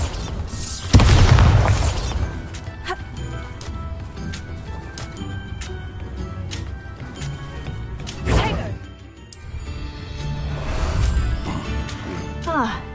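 A Bombarda spell blasts with a loud, deep boom in Hogwarts Legacy, followed by crashing and rumbling debris, a second smaller impact, and ongoing game noise with voices over it.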